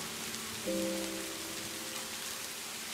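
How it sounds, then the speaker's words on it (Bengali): Heavy rain pours steadily in a Bengali horror cartoon set in a haunted village, a dense hiss throughout, with a brief tonal musical chord rising over it for about half a second early on. "আবারও জোরে ঝমঝম করে বৃষ্টি হতে শুরু করে"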